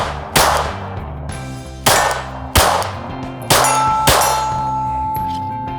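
Airgun pellets fired from a Talon air rifle strike steel targets, giving five sharp metallic clangs spaced irregularly, each ringing out with a long bright tail, loud and close with no talk.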